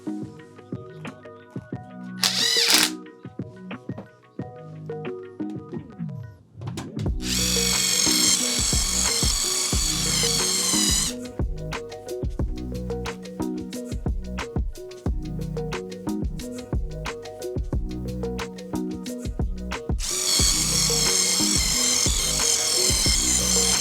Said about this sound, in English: drill all my pilot holes in the support pieces